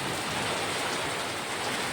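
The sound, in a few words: hailstorm with light wind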